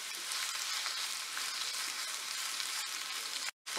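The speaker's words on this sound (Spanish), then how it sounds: "Ok, agregamos el ajo picado" Minced garlic hits a hot pan for Colombian chicken and rice, giving a loud, steady sizzle that fills the whole stretch before cutting out abruptly just before the end.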